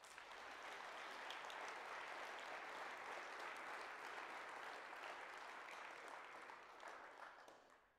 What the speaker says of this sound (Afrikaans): Kom ons gee vir hierdie graad 7 'n groot hande klap.